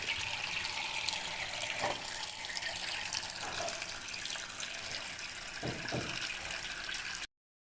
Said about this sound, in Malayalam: കൊള്ളിക്കയും കൊത്തി കഴുകിയെടുക്കാം.